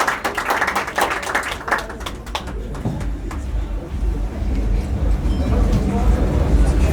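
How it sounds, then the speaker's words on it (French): Audience applause at a Muay Thai event, a steady mass of clapping that runs through the whole stretch and swells toward the end, heard over a low rumble of hall noise. "On peut les applaudir"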